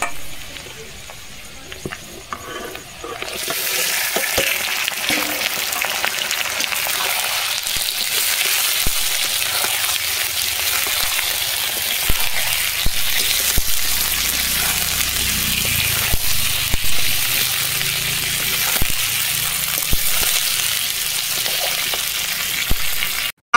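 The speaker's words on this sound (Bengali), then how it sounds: "তেলের মধ্যে দেওয়া হয়েছে তেজপাতা, গোটা জিরে ফোড়ন দেওয়া হয়েছে, আর তারপর দেওয়া হয়েছে অনেকটা কুচানো পেঁয়াজ" Bay leaf, whole cumin and plenty of chopped onion fry in hot oil for a chicken dish, giving a steady, close sizzle with stirring scrapes that runs unbroken throughout, with no talking.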